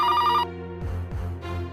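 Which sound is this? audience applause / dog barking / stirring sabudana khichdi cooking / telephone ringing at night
telephone ringing at night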